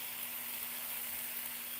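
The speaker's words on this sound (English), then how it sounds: "Sizzling." Food sizzles in a pot for meatball soup, a soft steady hiss of frying with a faint low hum underneath, quiet and even with no speech.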